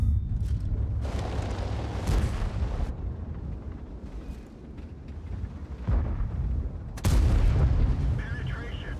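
An Object 279e heavy tank fires its cannon in World of Tanks. Deep, booming shots ring out several times over a low rumbling battle ambience, with the last blast the loudest.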